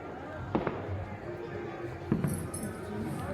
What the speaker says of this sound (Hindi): देखिए पटाखा कितना सब फोड़ रहा है